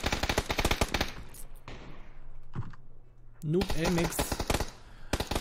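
Gunfire bursts in a PUBG custom match on the snowy Vikendi map, rapid volleys at the start and again near the end, with a caster talking excitedly over the shooting.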